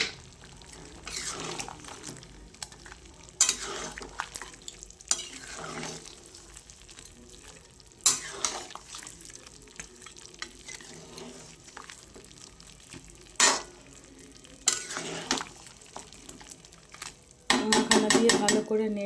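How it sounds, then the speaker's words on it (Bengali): Makhana being stirred into nearly cooked chicken in a pan, with quiet sizzling and intermittent clinks and scrapes of a utensil against the pan, ending in a rapid burst of rattling metal. "মাখানা দিয়ে ভালো করে নেড়ে চেড়ে"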